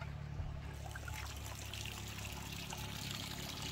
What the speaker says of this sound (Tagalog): I-drain muna natin yung tubig.